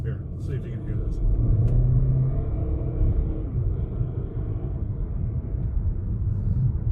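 A 2021 Jeep Renegade idles with a rough, diesel-like low rumble, steady and close, its engine drone filling the background while a person talks over it.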